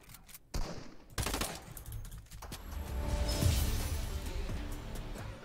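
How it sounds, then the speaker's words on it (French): Gunfire from a Fortnite match: loud bursts of automatic weapon fire mixed with game noise, sharp and close at first and then a dense, continuous rumble of shooting. "On tire un petit peu à l'aveugle."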